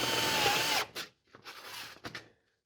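A power drill whirs hard while driving a screw into sheet metal HVAC duct, then stops, followed by a few short bursts of drilling with brief silent gaps.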